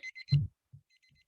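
A timer alarm gives a few quick high beeps in a short burst, then a soft thump and fainter beeps trailing off, quiet and close with no voices.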